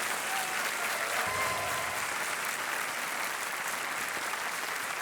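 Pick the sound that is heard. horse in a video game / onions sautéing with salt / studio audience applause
studio audience applause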